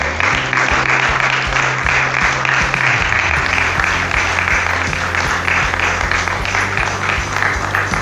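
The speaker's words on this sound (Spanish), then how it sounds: "Denle un aplauso al Señor en esta casa" A church congregation applauds during a Christian sermon. The clapping is loud and continuous, and music with a steady, rhythmic bass beat plays underneath.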